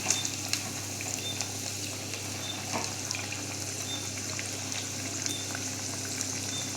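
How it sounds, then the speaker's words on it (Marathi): Vadas shallow-frying in a pan make a steady, close crackling sizzle of hot oil that holds evenly throughout, with a few faint clinks and no speech. "वडे असे पलटी करून घेऊया लालसर होईपर्यंत आपण भाजून घेऊया"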